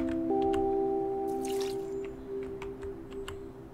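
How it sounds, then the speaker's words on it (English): Plants are watered in the video game OMORI: a sustained chime tone opens, then a run of short, crisp water drips and soft squishes plinks at an irregular pace. "I have to water the plants"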